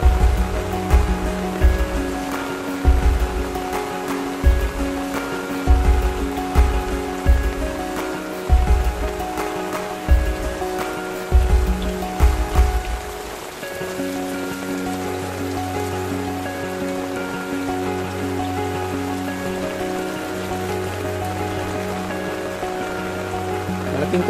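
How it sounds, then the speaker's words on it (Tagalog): Heavy rain pours steadily onto a flooded rooftop in a dense, continuous hiss, with a run of regular thumping knocks through the first half before the downpour carries on alone. "Lakas ng ulan ngayon."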